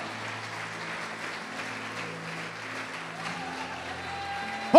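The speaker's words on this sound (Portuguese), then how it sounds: "Quem crê pode aplaudir o Senhor" A church congregation applauds during a sermon, a diffuse, even spread of clapping from many hands that runs steadily throughout at a moderate distance, with a brief sharp sound at the very end.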